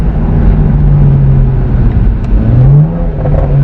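A BMW 335i fitted with custom exhaust and downpipes drones loudly and continuously, with a low deep rumble that rises briefly as it downshifts near the end, no one speaking.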